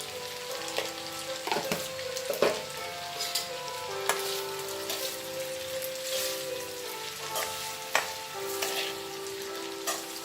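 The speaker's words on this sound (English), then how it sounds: "So these are nicely fried in the sausages oil." Goan pork sausages fry in their own rendered oil, giving a steady close sizzle with scattered pops and crackles and a few scraping stirs of a spoon in the pan.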